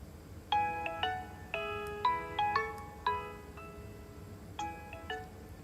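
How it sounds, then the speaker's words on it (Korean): Phone ringtone of an outgoing call, a melodic chiming tune of short bright note groups repeating in bursts, fairly clear and close with no talk over it. "진솔 언니 전화해볼까?"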